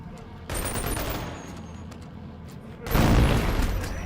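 Twin submachine guns fire in Boneworks, a dense continuous rattle of rapid shots in two loud bursts, the second heavier and louder, with a short gap between.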